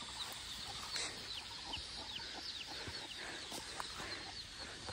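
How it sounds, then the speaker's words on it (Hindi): Chickens, large and small, cluck and chirp in a busy, scattered chatter, several birds calling over one another at a steady, moderate distance with a faint background hiss, in a village. "बड़ा मुर्गी"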